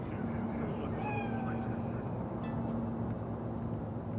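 A cat meowing in the video game Cyberpunk 2077, a couple of short rising meows over a steady low ambient hum, fairly faint and without speech.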